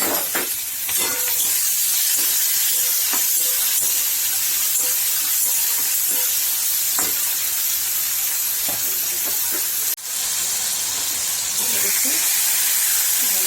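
Onion and tomato cook with a little salt in oil for a chicken tarka, giving a steady, close steamy hiss and sizzle broken by soft stirring clicks, with one brief sharp knock partway through.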